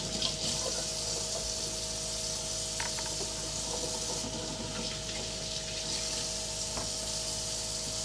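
Tomatoes are washed under a running kitchen tap, giving a constant close rush and splatter of water, with occasional light knocks and handling sounds.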